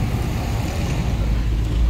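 Steady engine drone and road rumble fill the cabin from inside a moving car, a constant low, even roar with no breaks across the short stretch.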